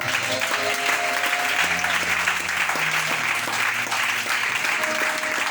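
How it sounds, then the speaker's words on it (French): A church congregation applauds and cheers for the Lord, steady dense clapping throughout with sustained keyboard or organ chords underneath and scattered voices in the crowd. "Et acclame pour le Seigneur"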